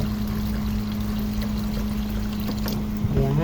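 Tap water runs steadily over boiled eggs in a bowl, a continuous close rushing and splashing with a low hum underneath and no pauses.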